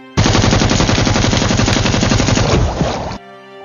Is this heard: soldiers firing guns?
yes